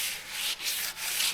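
Sanding the body of a 1949 GMC roadster before paint, a close, loud rasping rub in three strokes with brief gaps between them and no talking.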